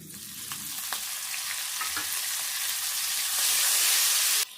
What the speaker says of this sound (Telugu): ఈ నూనెలో ఈ పుదీనా ఫ్రై చేసుకోవాలి.